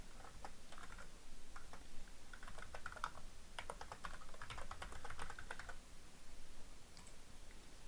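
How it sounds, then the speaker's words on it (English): Typing SQL commands on a computer keyboard, quiet close key clicks in irregular bursts over a soft background hiss, with a pause and a few final taps, no talking. "before I execute this command, I'm going to type a couple more as shown."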